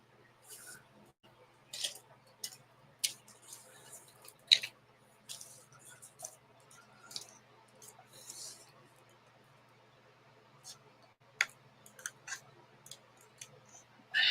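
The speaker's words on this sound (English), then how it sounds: "We'll cut inside the lines." Scissors cutting paper along drawn lines during crafting, a series of irregular close snips and soft crunching cuts with pauses between them, faint and intimate.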